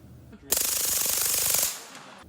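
Suppressed shots from a Silencerco Maxim 9 integrally suppressed pistol come as a rapid run of close, muffled cracks lasting about a second, then quickly fade.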